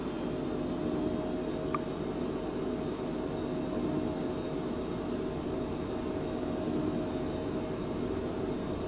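Twin business jet engines of a Phenom 100 flight simulator run at takeoff power, a steady broadband roar with a faint high whine, continuous and unchanging throughout with no talking.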